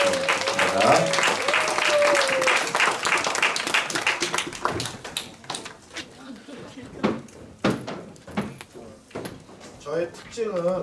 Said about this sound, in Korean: 우리 박수로 우리 마지막 강의 시작하겠습니다.